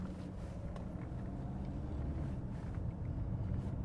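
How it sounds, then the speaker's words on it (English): Steady broadband whoosh of the air conditioning blower motor in a 1982 Mercedes-Benz 300SD W126 diesel, running continuously at a constant level with no talking. "The blower motor blows with vengeance, so you don't have to worry about that."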